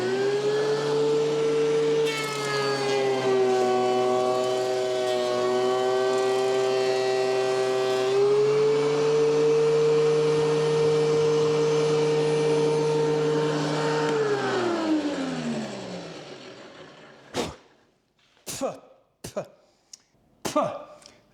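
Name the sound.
wood planer running a board, blowing out wood chips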